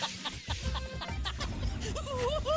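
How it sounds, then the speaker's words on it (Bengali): A chicken clucks nearby in short, throaty bursts, followed by a few rising, wavering calls toward the end, over soft background noise. "আবার মুরগি ডাকছে।"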